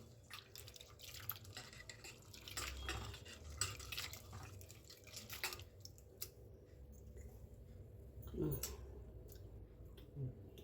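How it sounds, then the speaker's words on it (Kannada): Tamarind water drips and splashes as it is poured through a strainer into another pot, with soft squishing and wet trickling, fairly close and continuous. "ಇದನ್ನು ಸೋಸ್ಕೋತೀನಿ ಬೇರೆ ಪಾತ್ರೆಗೆ"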